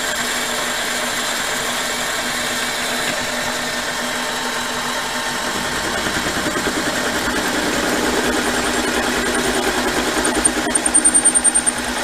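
A machine tool spins at 600 RPM cutting copper, a steady loud mechanical hum with whine that grows rougher and rattles near the end.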